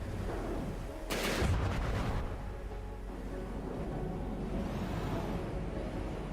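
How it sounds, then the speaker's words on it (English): Missiles launch in a From the Depths battle with a sharp, bright whoosh and a rumbling burst about a second in, followed by a sustained low drone and a faint rising sweep near the end. "Missiles popping in here."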